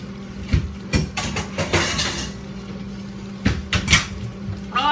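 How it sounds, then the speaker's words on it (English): A microwave door clunks and clatters open and shut several times in a kitchen while flatbreads are heated, the bangs close and fairly loud. "20 seconds in Mr. Microwave for our flatbreads"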